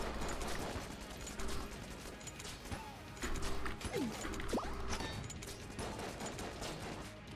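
Gunfire in the bullet-hell dungeon game Enter the Gungeon, rendered as quiet, rapid clusters of small shots and impacts with a few whooshing effects and faint game music underneath.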